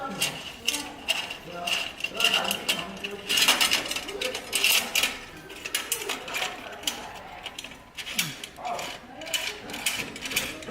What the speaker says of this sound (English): Not just loosen the bolts, you have to open the clamps completely.